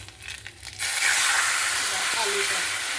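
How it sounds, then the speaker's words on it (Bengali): Lentil dal is poured into hot oil spiced with dry red chillies, ginger and radhuni phoron for a bottle gourd dish. After a few soft handling sounds, a loud, sustained sizzle bursts in suddenly and keeps hissing steadily. "এইবারে ডালটা ঢেলে দেবো"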